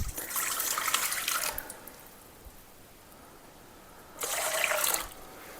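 Warm tap water pours into bowls for homemade bagel dough, two close bursts of splashing flow with a quiet pause between them and no talking.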